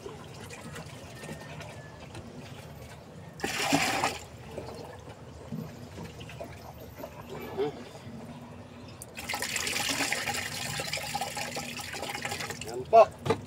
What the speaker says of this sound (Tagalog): Palit-palit na ng tubig.